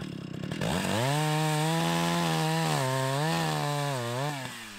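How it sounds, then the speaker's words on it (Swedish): A chainsaw revs loudly and close, its engine pitch dipping and rising repeatedly as the chain bores into a windblown tree trunk, running steadily for several seconds. "Här såg jag in ett instick i stammen."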